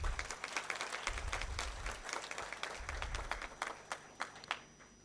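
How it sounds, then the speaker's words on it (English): Applause for the graduating class at a business school convocation ceremony, many hands clapping in a large hall with distinct sharp claps standing out from the crowd, fairly faint and distant, with low rumbles underneath. "A big round of applause to all of you."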